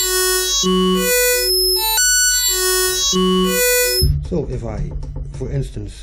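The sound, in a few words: Korg WaveStation synthesizer playing a wave sequence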